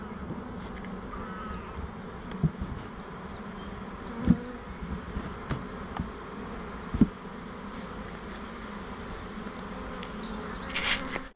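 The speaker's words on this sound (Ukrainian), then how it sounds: "Переселяю рій" A swarm of honey bees being moved into a hive box with wax foundation frames, a dense continuous buzzing hum with scattered louder bees passing close and a few soft knocks.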